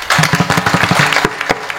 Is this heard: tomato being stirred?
no